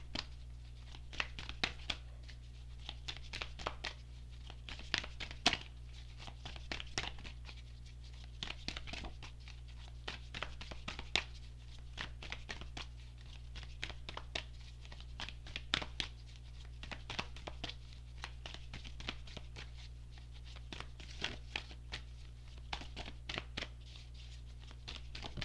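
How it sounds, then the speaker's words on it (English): Tarot cards are shuffled over and over, a faint, soft patter of crisp riffles and slaps in an irregular rhythm that continues throughout, with no voices. "I was led to keep shuffling."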